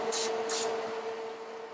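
Cooking oil spray is sprayed onto steamed vegetables in a home kitchen, two short hissing bursts close to the microphone over a steady hum.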